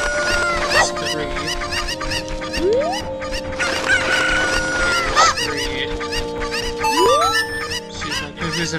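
Cucco chickens in The Legend of Zelda: Ocarina of Time cluck and crow repeatedly amid busy game sounds, with rising tones and bright chimes, loud and close throughout.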